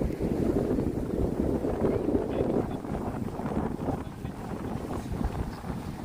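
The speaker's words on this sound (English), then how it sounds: "it's very windy" Gusty wind on the Brooklyn Bridge Park waterfront in DUMBO buffets the microphone with a steady, loud low roar that swells and eases slightly throughout, with no clear voices.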